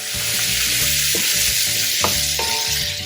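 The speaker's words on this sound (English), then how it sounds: "I'm going to add in kalamata olives. This is about 1/3 of a cup sliced." Sliced kalamata olives go into a sizzling pan while braised duck legs are being made on the stovetop. A loud, continuous frying hiss runs under stirring scrapes and a few metallic clinks, close by, with no voices.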